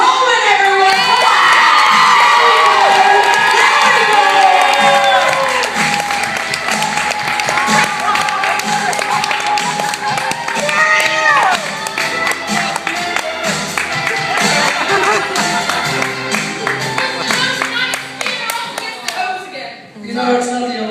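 A standup comedy audience cheers, whoops and applauds loudly to welcome a comedian on stage, a dense sustained roar with scattered shouts and claps that gradually thins, while a voice talks over it.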